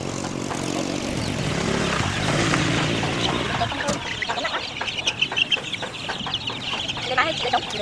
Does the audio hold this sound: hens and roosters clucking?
yes